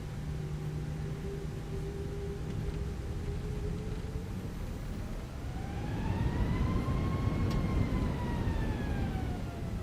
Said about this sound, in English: It's great. It's got that real like high-pitched whine.